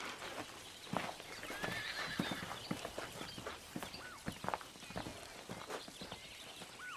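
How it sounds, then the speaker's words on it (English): A horse whinnies twice with a rising-falling call over steady hoof clip-clops and shuffling steps on a farm, fairly close, with no talk. "I've also got a horse I'd like you to take a look at."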